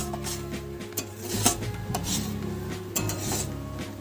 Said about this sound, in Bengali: এবার একটা খুন্তির সাহায্যে ভালো করে এটাকে একটু নাড়িয়ে দেব।